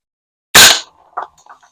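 A single sharp shot from a VFC HK416D airsoft rifle firing 0.20 gram BBs, a loud close crack that decays quickly, followed by faint small clicks.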